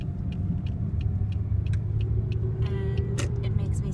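A pickup truck with a loud, harsh exhaust runs close by, giving a steady, heavy low rumble throughout with faint sharper clicks on top.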